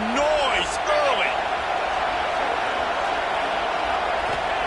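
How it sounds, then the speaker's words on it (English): A stadium crowd at a football game roars loudly and steadily, a dense wash of noise that never lets up. A commentator's voice rises briefly over it near the start. "This crowd bringing the energy and noise early."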